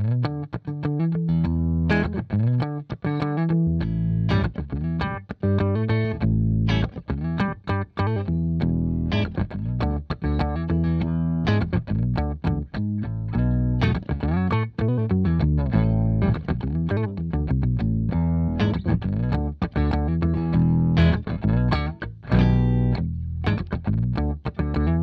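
A Teisco Spectrum 5 stereo electric guitar plays through an octave effect, loud and continuous, with dense strummed chords and quick picked runs and no talk.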